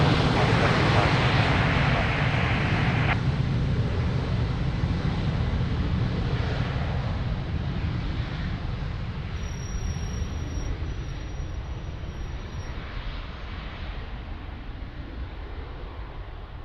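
An airliner takes off from runway 02 at Lisbon Airport with a loud, steady engine roar that fades gradually as it moves away, and no voices are heard.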